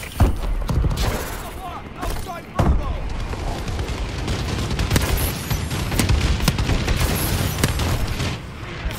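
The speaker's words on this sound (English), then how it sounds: "Friendly bombing run clearing the way." A friendly bombing run in a team deathmatch video game: heavy explosions and rattling gunfire boom in repeated sharp bursts over a dense, loud battlefield din, with a big blast near the start and steady chaotic firing after.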